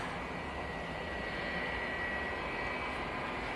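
A Ryanair jet airliner departing Manchester Airport roars steadily in the distance, a faint, even engine rumble with no voices over it.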